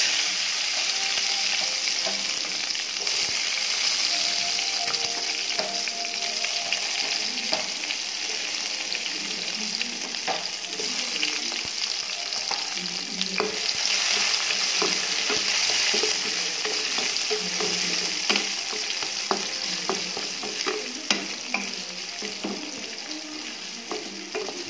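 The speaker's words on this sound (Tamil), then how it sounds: "கருவேப்பிலை போட்டுருவோம், வெங்காயம் போட்டுருவோம்." Curry leaves, onions, fenugreek and cumin frying in hot oil for a Tamil jilebi fish curry, a steady loud sizzle with frequent scraping stir clatter throughout, no talk.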